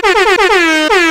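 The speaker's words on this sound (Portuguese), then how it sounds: "toca a buzina." A loud air horn blares in several short bursts during a live radio broadcast, the last blast held longer before a final brief toot, harmonic and piercing.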